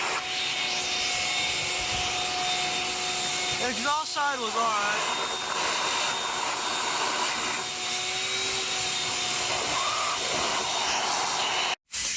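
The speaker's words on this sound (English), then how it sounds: "Got the vacuum. Gotta suck everything out." A vacuum cleaner sucks debris out of a Nissan Sentra SE-R Spec V engine bay, a steady whining hum with rubbing and scraping as the nozzle moves, while someone briefly speaks over it midway.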